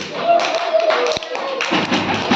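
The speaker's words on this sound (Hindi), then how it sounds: "बहुत बढ़िया, ताली बजाओ इसके लिए।" Children in a school classroom clap their hands together in a dense, steady burst of applause, with voices heard alongside.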